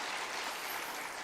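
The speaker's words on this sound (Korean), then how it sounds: "뜨겁게 박수로 환영하겠습니다." A church congregation at a Sunday morning service applauds to welcome a newly registered member, giving dense, even, faint applause that sounds distant and continuous.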